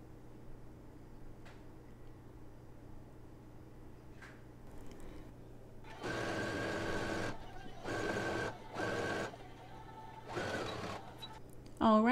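Domestic sewing machine stitching down the seam of wide-leg trousers, several bursts of steady motor whirr of about a second each, fairly close, over faint room hum.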